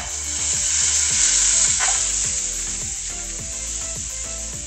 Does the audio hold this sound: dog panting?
no